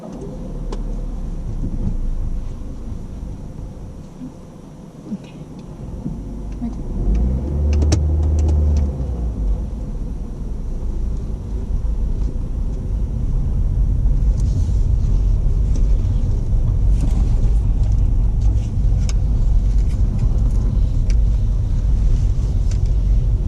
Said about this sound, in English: I'd like you to start the engine and we'll follow it round to the left